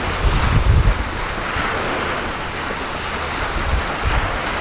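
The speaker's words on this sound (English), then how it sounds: "Bear, you love the beach, huh, bud? It's your fave" Ocean waves and surf wash onto a beach, steady and close, with bursts of wind buffeting the microphone and heavier swells rolling in near the start and again toward the end.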